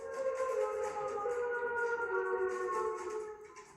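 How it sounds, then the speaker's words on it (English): A civil-defense warning siren wails through a small town, a steady loud tonal drone with layered harmonics sustained and slowly shifting in pitch. "A warning siren rips through the small town."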